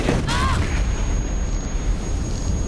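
A helicopter blows up in the video game The Division, heard as a loud, dense rumbling blast with a brief rising whine near the start, followed by sustained low roaring debris noise throughout.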